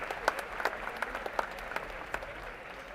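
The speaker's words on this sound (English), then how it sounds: "big round of applause to the runner-up as well, Pimpri Chinchwad" Scattered applause rises from the audience at a national robotics competition, individual claps standing out sparsely, fairly distant and soft, with faint voices underneath.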